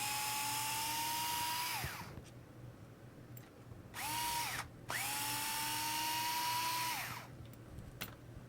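A power screwdriver removes the body mount screws on a V100-C touring car RC chassis. It whines loudly in bursts, spinning up and winding down twice, with a short stop between the runs and no talking.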